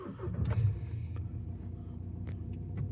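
A VW Tiguan R Line with a 2.0 TDI 140 diesel and 4Motion cranks and starts, a short whirring start followed by a low, steady idle rumble close by. A few faint clicks are heard and nobody speaks.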